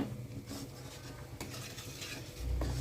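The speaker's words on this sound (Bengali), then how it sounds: "এবার ভালোভাবে সব মশলা একসাথে মিশিয়ে নিচ্ছি" Spices are stirred together in a pan for a prawn malai curry, with soft scraping strokes, light clinks of a utensil and a faint sizzle underneath, fairly quiet and close.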